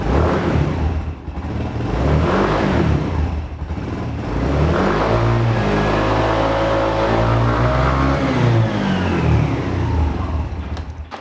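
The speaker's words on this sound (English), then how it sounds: "Let's fire it up and hear what it sounds like. It's got a lot of bass." Genuine Hooligan 170i scooter engine running and revving, a deep, bassy, throaty exhaust note rising and falling through several revs, loud and close, with no talk over it.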